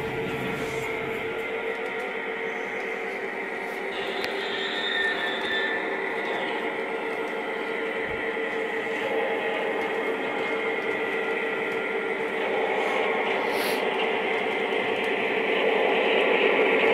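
A Lionel model train runs on FasTrack with a steady, close electric motor whine and rolling rumble that swells slightly and holds throughout, with no speech.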